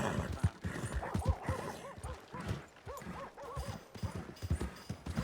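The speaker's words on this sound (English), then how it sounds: "Deixa eu amarrar meu cavalo aqui." Horse hooves clip-clopping in Red Dead Redemption 2, a steady rhythm of close hoofbeats under game chatter, with occasional whinny-like tones.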